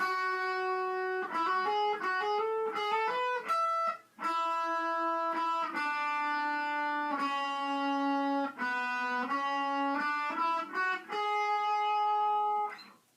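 Electric guitar with effects and distortion plays a battle theme from Pokemon Omega Ruby/Alpha Sapphire, a clear, loud melodic line of quick sustained notes with one brief pause near the middle.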